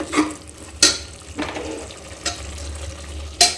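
A mushroom biryani mixture with milk fries in a pot, with a low sizzle underneath and several distinct spatula scrapes at intervals as it is stirred.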